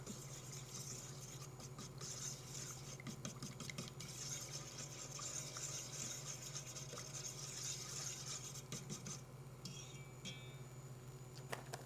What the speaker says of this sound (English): And then whisk some more before adding that 3rd cup